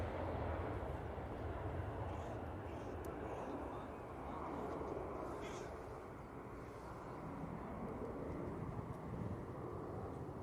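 An Airbus A321 airliner departs Manchester Airport bound for Lanzarote, a broad, sustained jet roar that swells and eases slightly over about ten seconds, heard from a distance outdoors.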